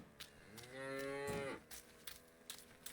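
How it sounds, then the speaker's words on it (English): A cow lows once in the video game Martha is Dead, a drawn-out moo that rises and falls against a quiet outdoor backdrop with faint scattered ambient sounds. "Alright, I see cows."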